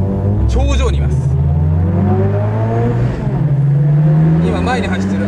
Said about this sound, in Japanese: 今前に走ってる赤のセブン2台が 早いですね。